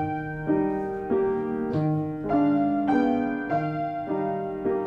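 Piano played with the right sustain pedal held down: a slow sequence of chords and notes, each ringing on and blending into the next, giving a full, resonant, continuous sound at moderate volume.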